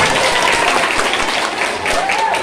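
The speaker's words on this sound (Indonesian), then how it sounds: "Tepuk tangan dulu Ilham." Steady, loud clapping from a crowd at a Maulid Nabi religious gathering in a village, continuous and close for the whole stretch.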